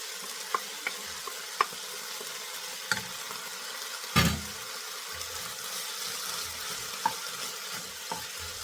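Drumstick flower thoran with chopped boiled egg being stirred in a pan, with faint steady sizzling, soft scraping strokes and a few sharp spoon clicks against the pan, close by and quiet.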